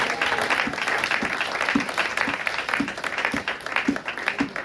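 A church congregation claps together in steady applause for Jesus, a dense, continuous patter of many hands at close range with some rhythmic accents and faint voices mixed in.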